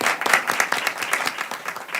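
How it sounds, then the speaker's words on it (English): An audience at a health policy event applauds the Congresswoman, producing brisk, distinct claps that rise and fall slightly across the short stretch with no voices over them. "Please give her a round of applause."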